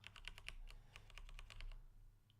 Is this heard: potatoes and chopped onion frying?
no